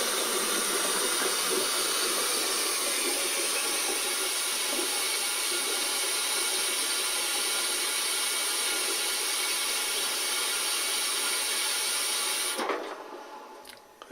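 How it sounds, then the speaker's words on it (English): A Mini Magnum espresso machine fills with water, a steady, loud mechanical hiss and hum, continuous for several seconds before stopping abruptly near the end. "It's got no water in it, so first thing it does is fill."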